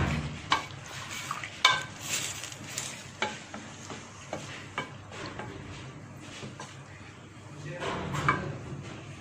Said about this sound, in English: I'm frying it well till it become white.